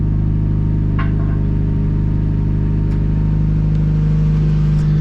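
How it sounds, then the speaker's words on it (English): A race car engine idles at about 1500 RPM on a cold start, giving a loud, steady, close low rumble with a constant throb and a few faint clicks, with no talking. "So we got it right about 1500 RPMs on the initial cold start."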